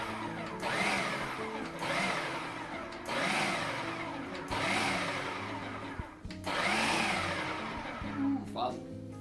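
A food processor pulses graham crackers in four or five loud bursts of whirring, each lasting about a second, with people talking in between.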